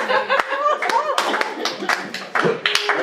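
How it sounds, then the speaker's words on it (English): Someone at a comedy roast claps slowly, about ten spaced, deliberate claps over a few seconds while chuckles and murmured voices sit underneath. "That's a slow clap."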